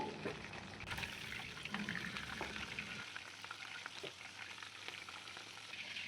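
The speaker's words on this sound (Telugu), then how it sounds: "అదే కడాయిలోకి వన్ టేబుల్ స్పూన్ నూనె పోసుకొని వంకాయలను అయితే ఇలా మధ్యలో కట్ చేసుకొని ఫ్రై చేసుకోవాలండి" Halved eggplants frying in a tablespoon of oil in a kadai, with a soft, steady sizzle and occasional light clatter of stirring throughout.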